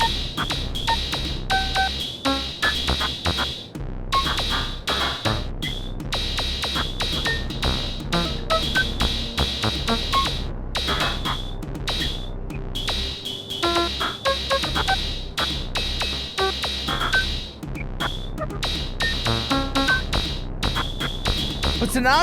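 A modular synthesizer plays dense, bright electronic tones with beeping, tone-like pulses and steady buzzing layers, continuous and loud throughout, with a voice speaking underneath.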